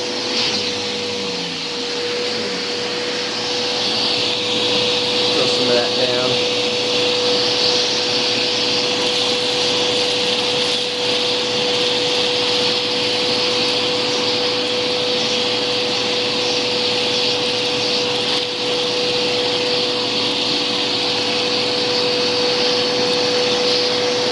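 A Bissell Powerforce vacuum cleaner, rebuilt with upgraded bearings, runs with a loud, steady motor roar and a constant whine while its hose sucks up debris, with no talking.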